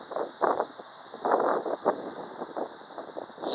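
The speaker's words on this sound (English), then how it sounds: "The heavy wind." Heavy wind gusts buffet the microphone in irregular low rumbling bursts that rise and fall over a steady background.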